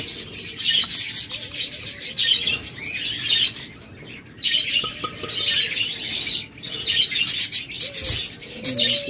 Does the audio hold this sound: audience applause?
no